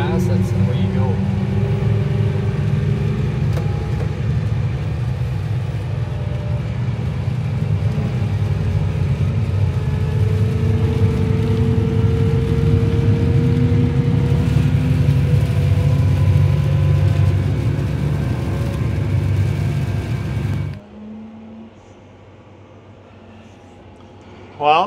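A tractor engine drives steadily at close range, a loud continuous low drone with a slowly shifting hum that cuts off abruptly near the end, and people talk over it.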